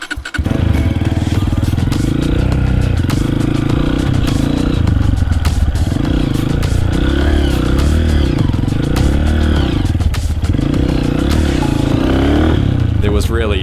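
A dirt bike weaves tightly around cones, its engine loud and close throughout, rising and falling in repeated revs as it turns, with clattering and voices talking over it.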